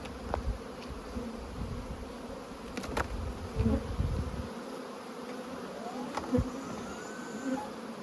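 Many honeybees in a hive box hum in a close, continuous buzz, with individual insects droning nearer and fainter as a few soft knocks and taps sound.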